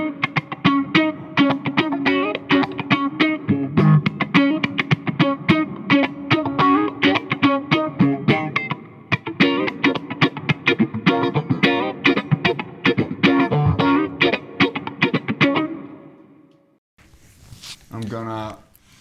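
Electric guitar runs through a dynamics-responsive pedal with filter, phase and flanger, playing a fast, busy riff of dense sweeping notes for about fifteen seconds before stopping, followed by a few seconds of talk.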